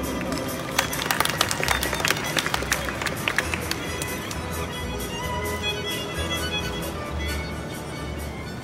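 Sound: audience applause welcoming a speaker on stage

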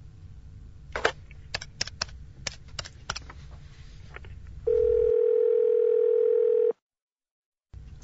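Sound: telephone dial tone when placing a call

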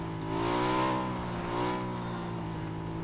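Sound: car driving in PUBG video game

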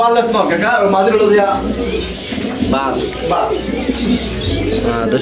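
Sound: pigeons cooing at a pigeon farm

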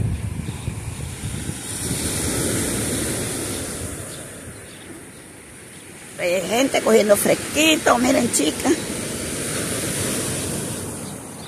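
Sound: rough sea waves breaking on the shore

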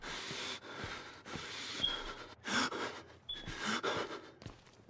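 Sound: heavy breathing in Outlast video game

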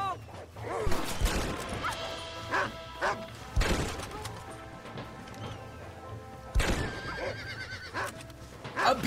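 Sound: horse neighing in a video game

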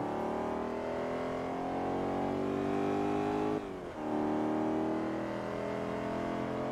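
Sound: car engine revving in video game Forza Motorsport 3

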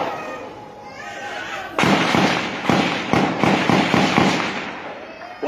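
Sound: Nigerian army gunfire, sporadic shooting

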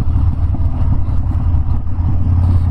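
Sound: Harley-Davidson Dyna Street Bob motorcycle riding

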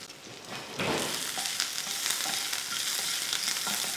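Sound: sautéing mustard seeds, curry leaves, green chilli, garlic

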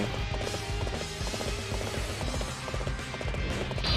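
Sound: horse hooves galloping in Dynasty Warriors 8 video game

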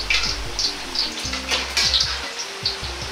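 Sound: peanuts deep-frying in oil

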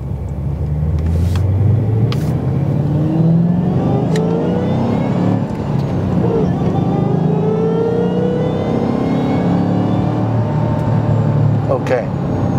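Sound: 2008 Ford Mustang GT500 driving, U-turn

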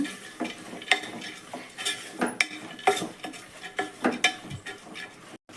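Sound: frying sprouted beans in a pan

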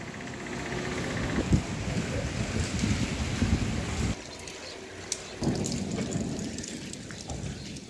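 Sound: heavy rain in Jhansi

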